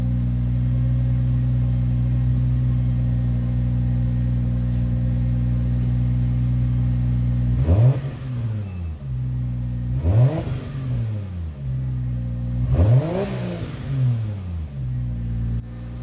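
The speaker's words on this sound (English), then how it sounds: "Now that it's warmed up, I'll do a little rev clip, but we are in the garage, so nothing too crazy." Toyota 2JZ-GTE in a Lexus GS300 with custom exhaust, warmed up in a garage: steady loud idle broken by three short, sharp revs that rise and fall back, each echoing in the enclosed space.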